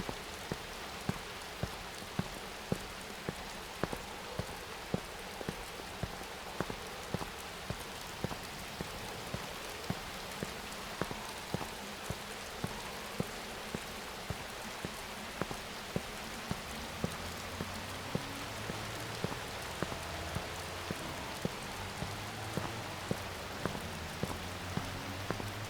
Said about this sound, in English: the raindrops